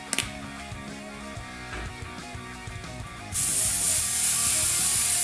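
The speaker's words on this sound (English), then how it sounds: "And spray that unreduced directly over the top of that area." A spray gun lays down Wicked Yellow paint unreduced, with faint mechanical clicks and rubbing at first before a loud steady hiss of spraying starts partway through and continues to the end.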